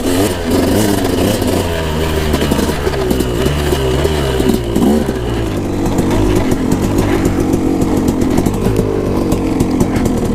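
A KTM 250SX dirt bike ridden in the desert, its engine loud and close throughout with constant revving, rising and falling throttle, and a raspy, buzzing two-stroke drone.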